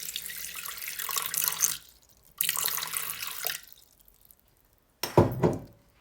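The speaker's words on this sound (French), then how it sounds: "je vais sur ma balance et je vais y ajouter mes 150 g d'eau" Lukewarm water, 150 g, pours from a tap into a Thermomix bowl sitting on a kitchen scale. The water runs in two steady bursts with a brief pause between them, then a short splash and clatter follow.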